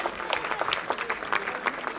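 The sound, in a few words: audience applause for children's performance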